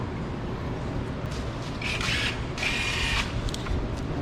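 A ratchet turns an 8mm bolt on an Isuzu Ascender during a thermostat replacement: two short bursts of close, crisp ratcheting clicks over a quiet background, with no talking.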